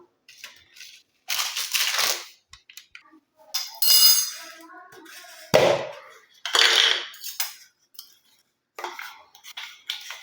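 A kitchen mixer grinder coarsely crushes fenugreek seeds, nigella seeds, henna and curry leaves for homemade hair oil, running in short rattling bursts separated by silent pauses.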